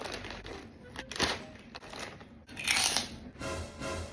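Crunchy spicy fried squid snack being bitten and chewed close up, a run of crisp crackling crunches with pauses between, faint voices and room noise around it.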